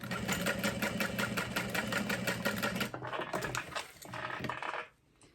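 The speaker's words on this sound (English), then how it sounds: "you're going to sew right along the top edge" A sewing machine stitches straight along the top edge of a chevron add-on panel, a fast steady mechanical hum with rapid needle ticking, running loud and close for about three seconds, then continuing in shorter bursts before stopping.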